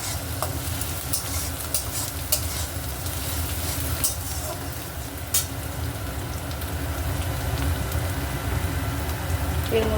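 Chopped garlic sizzles in hot oil for a restaurant-style dal tadka, giving a steady, close crackling hiss with occasional sharper pops across the whole stretch.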